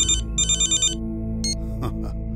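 A phone ringtone chirps in a quick repeating pattern of short electronic tones, then stops, followed by faint shuffling noises.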